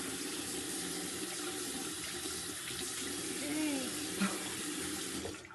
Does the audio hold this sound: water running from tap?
yes